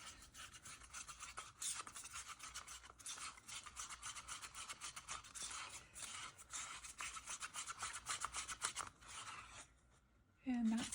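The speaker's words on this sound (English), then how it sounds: "Give it a good mix" Epoxy resin with a pea-sized drop of pigment stirred in a cup, a steady scraping and rubbing rasp that runs continuously at close range, ending in a brief quiet moment and a short tonal sound.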